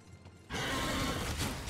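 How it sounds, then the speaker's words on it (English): A summoned horse in the video game Darksiders appears with a sudden loud burst after a quiet start, a dense whinnying and clattering rush that holds steady to the end. "I like that I can actually summon my horse now."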